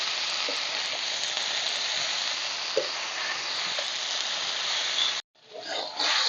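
Notey greens cooking with bitter gourd in a covered pan give off a steady, continuous sizzle and hiss, loud and close. It breaks off sharply near the end, then comes back rougher and more uneven.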